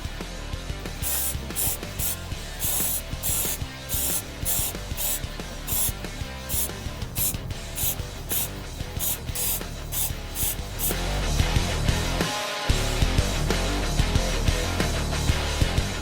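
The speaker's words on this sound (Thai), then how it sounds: "โรยเกลือเสร็จเราจะพ่นสีดำรองพื้นไปก่อนนะครับ" Black primer is sprayed from a can onto a DOOM-themed PC case mod, with repeated short hissing bursts in a steady rhythm and a longer continuous spray later, close and fairly loud with no talking.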